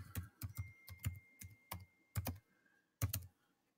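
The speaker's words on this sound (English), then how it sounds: "I'm typing on the wrong keyboard" Computer keyboard keys tapped in short irregular bursts of clicks, fairly close and moderately loud, with brief pauses between flurries and no talking.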